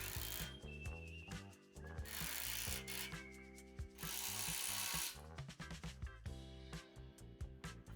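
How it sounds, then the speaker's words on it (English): A socket wrench ratchets while bolts on an in-ground basketball hoop pole are tightened with 24mm and 27mm sockets, giving repeated close clicking strokes with metallic rattles and pauses between bursts, fairly quiet. "Tighten all the bolts with a 24mm socket, then tighten the last bolt with a 27mm socket."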